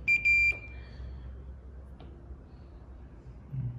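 A multimeter continuity beep while testing a Pulmosonic Star nebulizer: a short, high-pitched electronic beep at the start, doubled briefly, then quiet background hum with a faint click.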